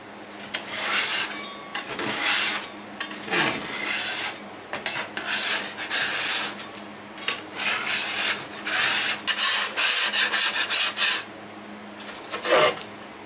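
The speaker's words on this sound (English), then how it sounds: "Let me get the rest of these scraped." Putty knife scraping freeze-dried maple tree sap off freeze dryer trays, a dry, raspy scrape repeated in uneven strokes close by, steady and fairly loud with brief pauses between passes.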